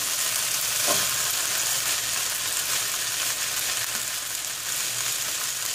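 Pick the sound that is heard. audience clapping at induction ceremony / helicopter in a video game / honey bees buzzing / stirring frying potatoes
stirring frying potatoes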